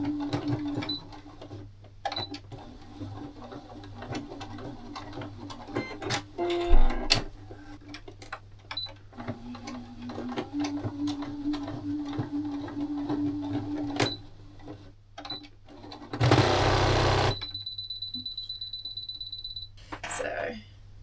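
A sewing machine runs in several stretches of rapid rhythmic stitching on a scrap fabric zipper pouch, broken by clicks, handling noises and a short loud whir, with a voice speaking at times.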